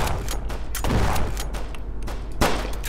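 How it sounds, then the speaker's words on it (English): Gunfire during a shootout in the video game Flashing Lights, a dense fusillade of sharp repeated shots with loud cracks around the middle and near the end, heard close and without talk. "We're being shot at! Return fire!"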